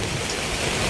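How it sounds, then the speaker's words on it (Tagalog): Heavy rain pours steadily onto a roof, a dense unbroken hiss of water close by with no pauses. "Ulan na."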